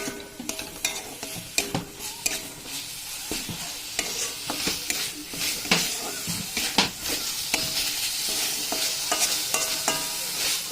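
Cabbage leaf paste frying in a pan under a steady sizzle, a spoon or spatula scraping and stirring it in repeated strokes, close and fairly loud throughout.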